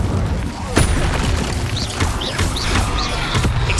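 A fiery Incendio spell cast in the video game Hogwarts Legacy, a burst of crackling flame and whooshing impact layered over a busy game soundscape, with several sharp swishing spell effects following close together.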